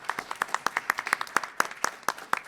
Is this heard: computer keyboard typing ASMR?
no